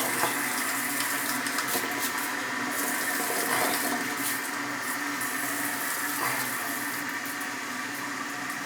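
A Sloan Flushmate power-flush toilet tank refills after a cartridge replacement, giving a steady, close rush of running water that holds at an even level throughout.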